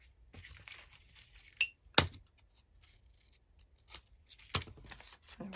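Scissors snip paper during altered book page craft work, a few sharp isolated cuts with quiet pauses between them, close and faint, with no voices.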